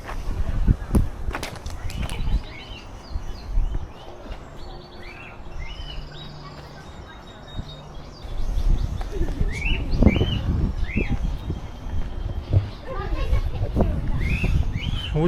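Birds in an aviary coo and chirp in repeated short calls, some pigeon or dove-like, over a busy outdoor background with people talking nearby.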